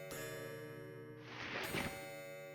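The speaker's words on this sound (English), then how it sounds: "The clock is chiming? Wasn't it busted a minute ago?" A clock chiming in the video game Forest of Drizzling Rain, a loud bright ringing tone that sustains and swells, heard alone without talk.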